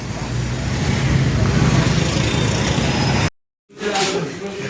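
Busy roadway noise with cars passing close and loud, a steady engine rumble that cuts out abruptly near the end before resuming briefly.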